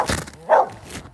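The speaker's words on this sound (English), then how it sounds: "he's literally barking at the moon." A small dog gives a couple of short, sharp barks while looking up at the night sky. The barks are close and brief.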